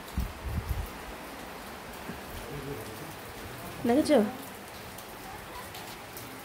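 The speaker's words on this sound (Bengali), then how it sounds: "দেখো এই দিক দেখো কতটা বৃষ্টি দিচ্ছে" Heavy rain falling outside, a steady close hiss that runs through the whole clip, with a short burst of speech near the start and a brief voice in the middle.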